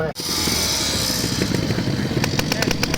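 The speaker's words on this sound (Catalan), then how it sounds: "McLaren motor Suzuki, 98 centímetres cúbics." A McLaren trial motorcycle with a 98cc Suzuki engine runs loud and close at a charity trial event, a steady buzzing engine note with rhythmic popping toward the end.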